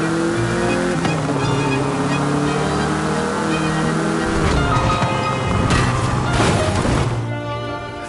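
The small classic Bocho driving in Forza Horizon 5, a steady droning engine with shifting revs and road noise, rising and easing over several seconds, loud and alone.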